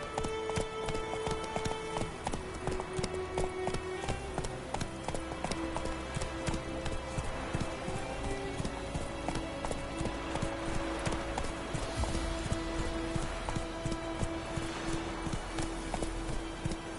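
Roach, a horse in The Witcher video game, clip-clops at a steady rhythmic pace, hoofbeats loud and continuous over a busy layer of game music and ambience with no talk.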